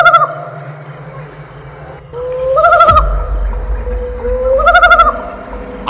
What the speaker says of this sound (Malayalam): കാലൻകോഴി കൂവുന്നത് കേട്ടാണ് ശിവരാമൻ കണ്ണു തുറന്നത്.